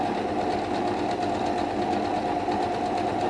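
A home sewing machine runs steadily, stitching a small pink fabric test piece with a fast, even mechanical whir that stays loud and continuous throughout, with no talking.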